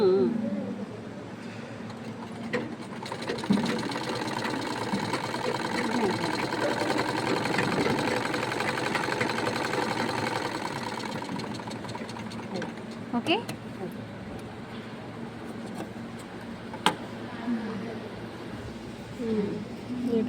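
A sewing machine stitches fabric in a long, steady whirring run that builds and then eases off, followed by short bursts of stitching, with a person talking over it.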